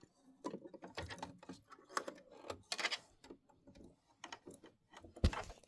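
Threading an Aveneer embroidery machine brings small mechanical clicks, taps and ratcheting rattles in irregular bursts, close and fairly faint, with no talking.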